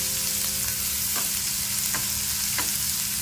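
Chopped large onion frying in a pan, stirred now and then: a steady close sizzle with three or four short spatula scrapes spread across it, no voices.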